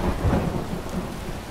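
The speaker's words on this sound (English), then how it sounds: "And the thunder sounds good." Deep rolling thunder from the Nimbus weather mod in Skyrim, a loud, sustained low rumble with steady rain hiss underneath, building early and then holding as a continuous storm wash with no talking.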